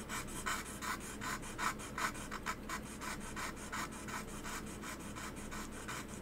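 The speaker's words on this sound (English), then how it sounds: "So now I'm going to use this exact same plate to kind of hand sharpen my graver here." A clock graver is sharpened by hand on a metal plate, producing rhythmic scraping rubs in quick back-and-forth strokes, close and fairly quiet, with no talking.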